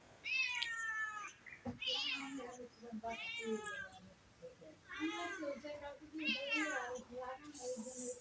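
A house cat meows over and over in loud, drawn-out cries close to the recording, while a small child and an adult talk and coax it.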